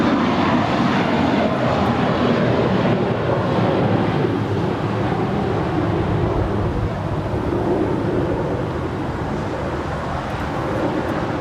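An airliner takes off at LAX on runway 25 right, its engines producing a loud, steady broadband roar that holds strongly for the whole stretch with no talk over it.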